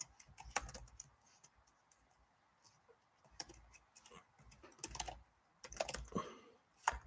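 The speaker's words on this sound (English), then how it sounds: "Let me just type this out." Keys clack on a computer keyboard in irregular bursts of sharp close clicks, with short pauses between clusters, in an otherwise quiet room.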